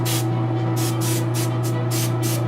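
Bursts of hissing spray paint on a Jessica Rabbit figure, applied from a distance in about five short passes over a steady low compressor hum.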